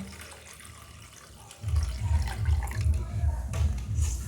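Tap water pours steadily over mustard seeds being washed in a sink, carrying off the muddy rinse water; the flow starts partway through and stays fairly loud and continuous.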